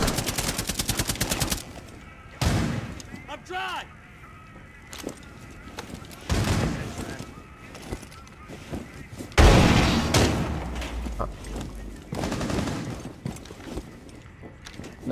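Gunfire in the tactical shooter Rainbow Six Siege, aimed at a door: several loud bursts of shots with sharp impacts, scattered through the stretch between quieter gaps, along with game effects and no voice speaking.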